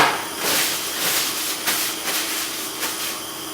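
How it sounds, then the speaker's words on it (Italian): Wine boiling off its alcohol over high heat in a pan with apricots: a steady loud sizzling hiss with bursts of crackle and spatter, no voices. "Facciamo evaporare l'alcol contenuto nel vino a fuoco alto"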